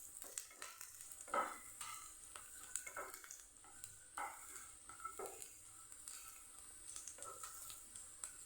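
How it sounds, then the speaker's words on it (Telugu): Cashews frying in a pan for tomato bath, heard as a soft, faint sizzle with a few quiet stirring scrapes and clinks and no talk. "కొంచెం జీడిపప్పు వేసేద్దామండి. ఇవి కూడా వేగుతాయి."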